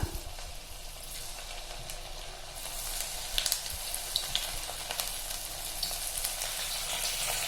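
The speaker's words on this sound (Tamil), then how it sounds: "இப்போ இதை எண்ணெயில் பொரிச்சிடலாங்க" A children's snack fries in hot oil on a stove, a constant bubbling sizzle at moderate level with scattered crackles and pops, and occasional clicks as the pieces are moved.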